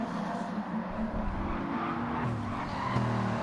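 Heavy Bugatti race car cornering on a track in a racing video game, engine drone with shifting pitch and tyres scrubbing through the bend, continuous and unaccompanied by speech.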